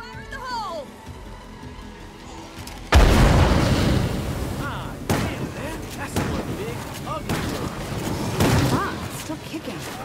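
A thrown explosive in the video game State of Decay 2 detonates with a sudden loud boom, followed by rumbling debris, scattered impacts and game noise while a person talks over it.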